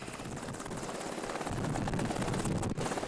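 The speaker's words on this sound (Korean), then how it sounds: "헬기인 듯 헬기 아닌 헬기 같은 무인기이기 때문이죠" A helicopter-type unmanned drone flying, heard as a steady loud rotor whir and engine drone that swells slightly, with no voices.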